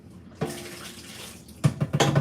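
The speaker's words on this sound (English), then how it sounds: "Let me pour this out." Liquid poured from a wine making container splashes and gurgles into a vessel, with a sustained pour followed by a few louder choppy glugs near the end and no voices.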